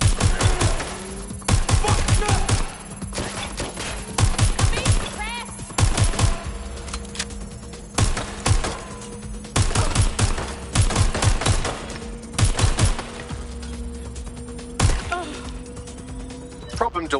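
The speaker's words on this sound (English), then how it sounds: "Target is firing." Bursts of automatic gunfire from an enemy target in the video game Watch Dogs Legion, loud rapid volleys repeating in clusters over a steady game soundtrack hum.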